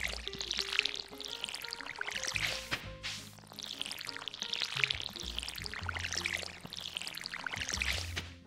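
In the Stardew Valley video game, a watering can pours water in about three repeated splashing streams, each swelling and stopping. The sound is soft and close, with no talking.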